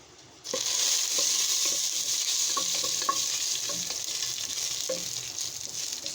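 A dried red chili drops into hot oil for a dal tempering and bursts into a loud, steady sizzle, with occasional light scrapes and taps of a stirring spoon against the pan.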